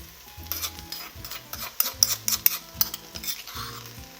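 A garlic, thyme and salt mixture stirred into a pan for a Réunion creole potato zembrocal: repeated scraping strokes of a utensil against the pan with light clinks and a faint sizzle underneath, close and fairly quiet.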